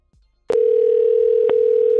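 A steady, loud telephone dial tone begins abruptly after a short quiet moment and holds continuously, with a couple of faint clicks along the way.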